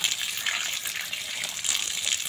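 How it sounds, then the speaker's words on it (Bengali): Running water gushes steadily as freshly dug food is rinsed of clinging soil, a continuous close splashing stream with no talk. "একটু পরিষ্কার করে ধুয়ে নিই"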